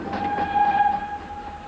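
A train bound for Eastbourne rolls along with a steady rumble, and a sustained whistle-like tone rises above it for about a second, loud and close.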